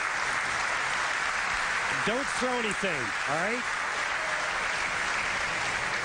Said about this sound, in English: You hear the applause from the crowd.